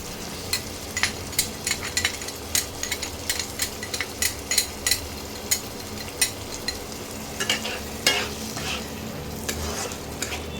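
Onions frying in a pan as a garlic, salt and sugar stock goes in, a continuous sizzle broken by regular scraping stirs and light clinks of a spoon against the pan, no talking.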